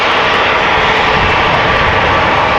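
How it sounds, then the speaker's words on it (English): Steady, loud roar of a Cathay Pacific Airbus A350-1000's jet engines at Amsterdam Schiphol Airport, a continuous broadband rush with no talk over it. "Cathay Pacific, A350-1000, almost ready to go."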